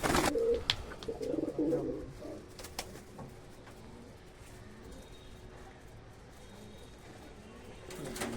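A golden female high-flying pigeon is let go, with a burst of wing clatter and soft cooing near the start that settles into a faint, quiet background.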